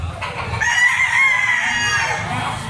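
Roosters and hens at a livestock market in Lipa, Batangas: one rooster lets out a long, loud crow over low clucking and background farm noise.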